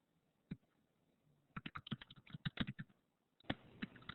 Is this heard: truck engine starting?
no